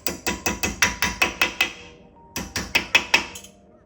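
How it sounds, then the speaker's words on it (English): Rapid metallic hammer taps seating a brake part on a Mercedes-Benz E550 during a rotor and pad change, about eight in a quick even run, a short pause, then four more, close and sharp. "we're gonna use just a hammer, just tap it in"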